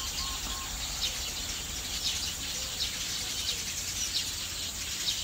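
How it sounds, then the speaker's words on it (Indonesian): Many birds chirping and calling at a landfill site with standing pools of water, a steady layer of high, busy calls with a few clearer whistles rising above it throughout, with no voices. "Jadi banyak sekali di sini burungnya."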